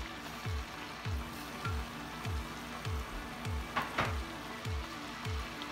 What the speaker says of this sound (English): I'm gonna saute them around for about another 5 minutes